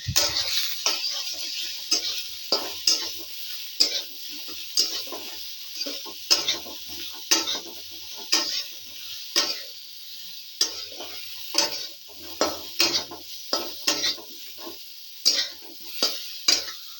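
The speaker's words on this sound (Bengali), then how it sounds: "একটু নুন হলুদ দিয়ে ফুলকপিটা ভেজে নিই" Cauliflower sizzles in hot oil with salt and turmeric while a spoon scrapes and stirs the pan in repeated sharp strokes over a constant frying crackle.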